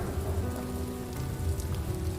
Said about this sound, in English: Now it's raining on just us.